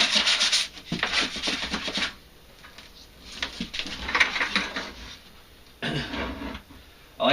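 Abrasive sanding on the inside of a plastic bucket, heard as close, uneven bursts of scratchy rubbing strokes separated by short pauses, with no talk.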